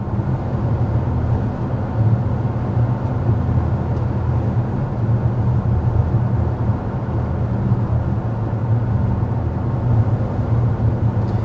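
Steady low road and wind rumble inside a Toyota RAV4 Prime cruising at 55 mph with the climate fan on its lowest setting, a constant broadband hum with no talking.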